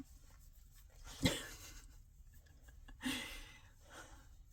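A dog snorts and breathes close by, with two sharp snorts about two seconds apart and soft breaths around them, apparently inside a car.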